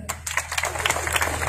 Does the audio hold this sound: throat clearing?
no